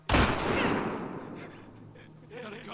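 A single loud gunshot cracks in The Last of Us Part II and trails off in a long reverberant decay, followed by faint game sounds and a voice toward the end.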